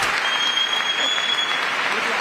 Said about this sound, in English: There's a couple Democrats clapping.